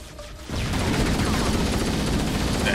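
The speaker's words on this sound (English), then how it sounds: "they're shooting us from the top" Enemy gunfire in Halo, erupting into a dense continuous barrage of rapid shots after a brief quieter start, loud and close with no pauses.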